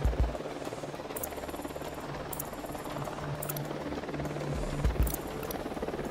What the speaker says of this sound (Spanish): Se acerca un helicóptero.